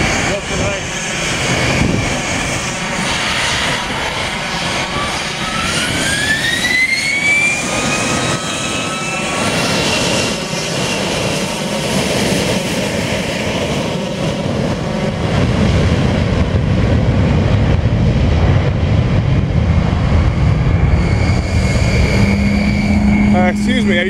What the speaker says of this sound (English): Now he's taxiing on the runway. Is he about to take off?